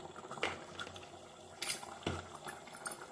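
Mutton curry simmering in a pot, with soft bubbling and a few sharp clinks of a utensil against the metal rim, close and fairly quiet.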